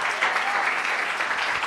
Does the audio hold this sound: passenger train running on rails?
no